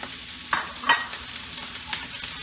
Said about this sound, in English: And this one, you can stir fry 3 minutes, 4 minutes.